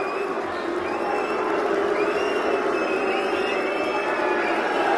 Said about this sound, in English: when you stop, they're going to boo even more